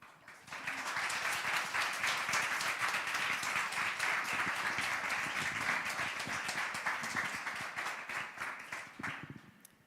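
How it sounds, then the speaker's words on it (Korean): Welcoming applause from a church audience, steady crowd clapping building quickly and holding for several seconds before tapering off, fairly distant and even. "오실 때 우리 환영의 박수 함께 해주시기 바랍니다."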